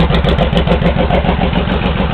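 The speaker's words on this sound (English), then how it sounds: "loping sound without that pair valve hooked up" A Honda VTX1800 motorcycle runs with its pair valve removed, the big engine idling close and loud in a steady, uneven loping beat.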